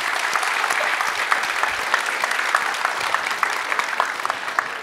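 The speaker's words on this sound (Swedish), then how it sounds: "sen så ger vi dig en stor applåd" A conference audience at a Swedish work-environment event applauds the speaker, dense sustained clapping from many hands filling the room for several seconds, even and unbroken with no talking.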